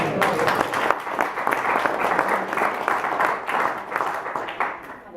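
Audience applause at a Birmingham May Day rally in 2017: a steady wash of many hands clapping, moderately loud and continuous throughout, with faint crowd murmur underneath.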